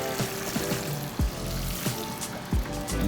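Water poured from a can onto a freshly transplanted plant sitting in a small soil bowl, splashing and trickling in a few bursts close to the mic.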